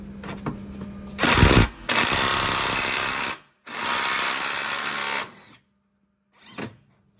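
An impact-style power tool zapping a bolt off a Honda Element front skid plate, in two long loud buzzing bursts with a short blip between them and a brief final burst, close-up with no talking.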